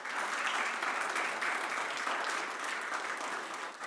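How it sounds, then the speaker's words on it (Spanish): A congregation at a church service claps together in a sustained, even round of applause that stays loud and steady for the whole stretch without any speech. "Da un aplauso a Dios."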